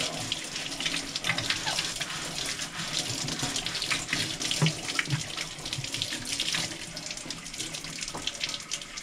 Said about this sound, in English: This one has some paint on the bottom. I'm going to see if I can scrub that off.